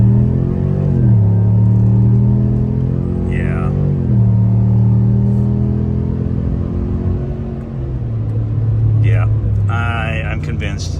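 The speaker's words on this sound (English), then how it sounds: "here's another pass. Wide open throttle, Corsa uncovered." Chevrolet Silverado ZR2 pickup with a Corsa exhaust at wide open throttle, engine note climbing through gears with shifts, loud and close, with a voice speaking over the later part.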